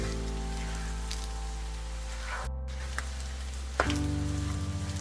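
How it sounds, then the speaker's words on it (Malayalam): Beef frying in melted ghee in a pan for a Kerala-style beef fry gives a steady, dense sizzle with a low hum running under it. A few clinks and a brief stirring scrape break in near the end. "ആ നെയ്യിൽ കിടന്ന് വേണം ഫ്രൈ ചെയ്യാൻ."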